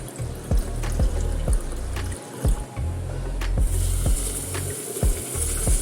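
Rice for idli batter washed by hand in a vessel of water, with repeated sloshing, swishing and clinking strokes in a steady rhythm, close and fairly loud, no voices.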